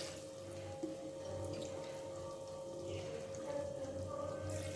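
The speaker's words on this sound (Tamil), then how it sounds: "தேவையான அளவு தண்ணி ஊற்றுறேன்." Water pours steadily into a pot for cooking mushroom biryani, with a continuous splashing rush, close and moderately loud, with no talking.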